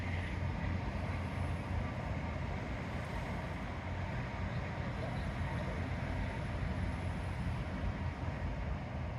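A train passes at the coast near Sprey Point, a steady low rumble with rolling mechanical noise that stays fairly even at moderate distance and partly mixes with wind.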